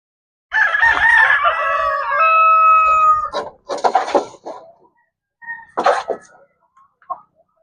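Black Australorp chickens call out loudly during fertile egg collection: a long, drawn-out crow-like cry, followed by several short, sharp clucks and squawks with quiet gaps between them.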